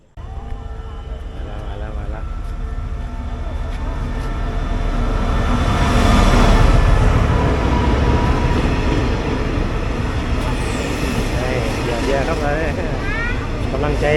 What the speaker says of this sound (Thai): ตอนนี้รถไฟก็มาแล้วครับ